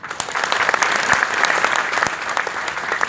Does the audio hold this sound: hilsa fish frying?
no